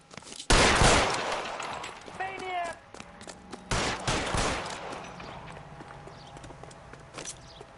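Loud gunshots from L.A. Noire ring out in two sharp bursts, mixed with clip-clopping horse hooves and a shouted voice in between, with quieter trailing sounds afterward.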